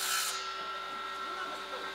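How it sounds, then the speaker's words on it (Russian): A saw and workshop machines cut wood for seedling boxes in a school workroom, with a burst of high-pitched cutting noise at the start, then a softer continuing machine hum and rasping. "Доносятся звуки пилы и станков"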